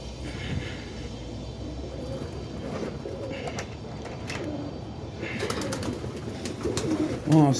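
Boston Ripping Roller pigeons coo inside their coop, a soft continuous murmur of bird calls over steady background noise, with a slightly louder burst near the end.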